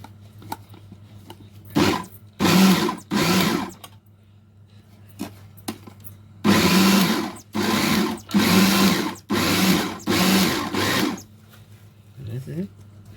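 Electric chopper pulsing molokhia (jute mallow) leaves: repeated short bursts of motor whirring, a few seconds each, close and loud, separated by pauses over a low steady hum.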